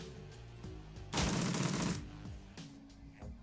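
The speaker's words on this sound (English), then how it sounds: "Right now we should be able to finish this guy off with a full auto." A short burst of full-auto gunfire in the tactical video game Shadowrun Returns, lasting under a second, is loud and dense over steady, low in-game music.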